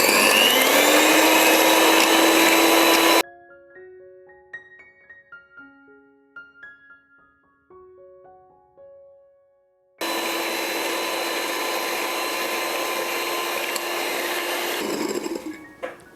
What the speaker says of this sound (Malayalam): ഈ മുട്ട നന്നായിട്ട് ബീറ്റ് ചെയ്യണം. നല്ല ഹൈ സ്പീഡിലിട്ട് ഒരു 2 മിനിറ്റ് ഒന്ന് ബീറ്റ് ചെയ്യുക.